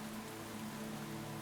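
Steady rain falling on a surface, a dense even patter with no break, heard alone at close range.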